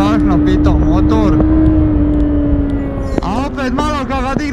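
A 2024 Kawasaki Ninja 636 engine holds a loud, steady pitch while riding, easing slightly and shifting near the end, with wind noise and the rider talking throughout.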